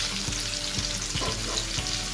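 Hilsa fish pieces fry in hot oil, a steady close sizzle and crackle with faint soft stirring bumps at regular intervals, with no voices over it.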